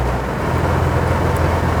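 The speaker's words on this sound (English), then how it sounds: "Immediately when you switch over to sport mode, you hear the whole entire like aesthetic of the car change. You can feel how heavy the exhaust has gotten." Low, steady engine and exhaust drone from a 2019 Maserati Ghibli S GranSport in sport mode, a heavy continuous rumble heard from inside or near the car with no clear revs or pops.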